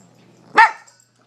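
A puppy, freshly groomed, lets out a single sharp, loud bark up close, a brief burst that quickly fades into quiet.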